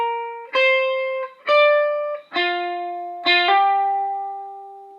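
Lead electric guitar played dry with no delay effect, four sustained picked notes or chords ringing out one after another, each decaying slowly, loud and close with no voices.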